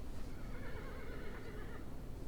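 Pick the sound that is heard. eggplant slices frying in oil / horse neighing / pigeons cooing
horse neighing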